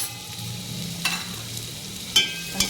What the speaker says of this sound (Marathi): आता तेल सुटलं आहे। त्याच्यामध्ये मी धने पावडर, हळद, गरम मसाला आणि हा पुलाव मसाला घालते